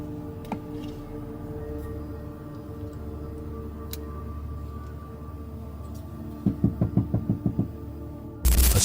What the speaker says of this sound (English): a sudden loud knock struck the side of the van